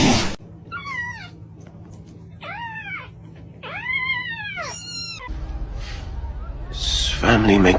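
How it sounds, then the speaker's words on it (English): A cat meows several times, drawn-out rising and falling calls spread across the clip, close and clear over a low steady hum, with louder noise near the end. "Your cat that annoys King Julian."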